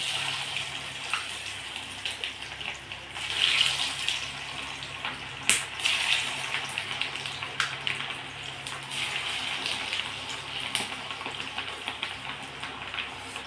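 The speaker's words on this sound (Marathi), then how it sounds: "तर आता आपण तेलसुद्धा गरम झालेलं आहे ह्या वड्या आपण तळून घेणार आहोत" Kothimbir vadi, coriander fritters, deep-frying in hot oil, giving a steady, close, hissing sizzle that crackles and pops now and then for the whole stretch, with no talking.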